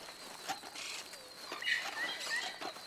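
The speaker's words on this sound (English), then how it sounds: "I hear birds." Birds in the trees in the video game Red Dead Redemption 2 chirp in a few faint, brief calls over quiet ambient background.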